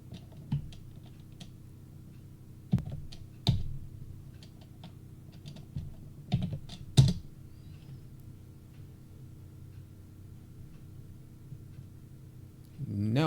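Computer keyboard typing as coordinates are entered into drafting software, scattered close clicks with a few louder isolated key strikes over a quiet hum, no talking heard.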